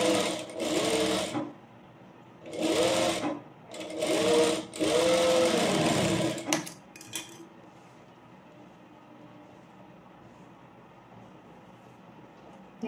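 A sewing machine top-stitching the cross piece of a pleated petticoat: four or five short, close runs of rapid stitching over about six seconds, then near quiet.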